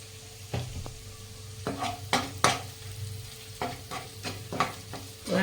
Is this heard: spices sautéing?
yes